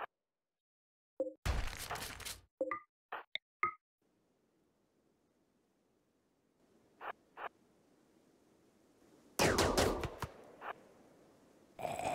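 Gunfire from a colonist's firearm in the colony-survival game RimWorld, heard as a few sharp, brief bursts separated by near silence, with a louder cluster of shots toward the end.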